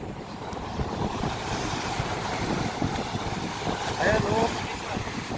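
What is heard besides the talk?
waves on the sea, with a boat nearby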